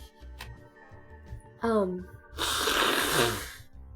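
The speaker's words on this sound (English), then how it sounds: "Hold on, I gotta blow my nose again." A person blows their nose once, a loud, breathy, close honking burst lasting about a second, after a brief voiced exclamation, with a hum of background noise underneath.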